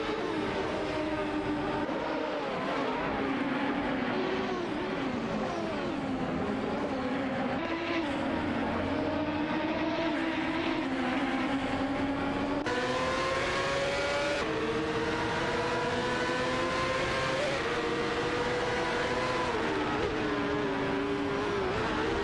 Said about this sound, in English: They are now racing down the straight